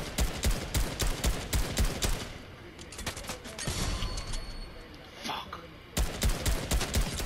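Rapid gunfire from a Fortnite squad battle royale match crackles in repeated bursts, strongest at the start and end, with a short exclamation and game noise in between.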